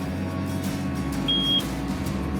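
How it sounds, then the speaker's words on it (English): Single short electronic beep alert inside a JCB Fastrac tractor cab during seeding, a clear steady tone heard once over the constant low engine drone. "Why are you beeping at me?"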